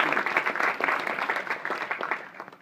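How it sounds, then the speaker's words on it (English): A short burst of audience applause at a business committee anniversary event in Abu Dhabi, many hands clapping steadily at moderate loudness before fading slightly. "I must have applause for AmCham and Sana."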